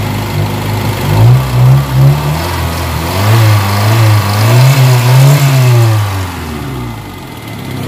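Kia Pride car engine with white smoke, vibration and low power, running loud and close: a steady idle broken by several smooth revs that rise and fall, with no talking.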